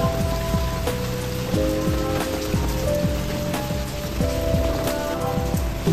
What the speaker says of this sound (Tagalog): Nagsunog ako, saka naman umulan din.